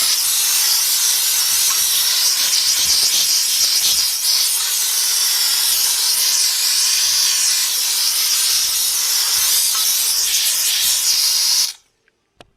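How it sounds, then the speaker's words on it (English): A steam cleaner blasts grit and grease off motorcycle parts during a Ninja restoration, a loud, steady roaring hiss that runs unbroken for about twelve seconds and then cuts off abruptly. "Now you can't imagine how much grit and grease gets loosened up by that steam."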